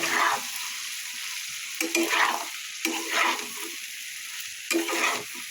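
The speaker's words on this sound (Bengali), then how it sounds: "এখন আমি এর মধ্যে আলু আর কপি দিয়ে দেব, দিয়ে নাড়াচাড়া করে ভালোভাবে মিক্সড করে নেব।" Potato and cauliflower pieces being stirred in a pan of hot oil and spices, with a steady sizzle of frying punctuated by a few scraping stir strokes, close and clear with no voices.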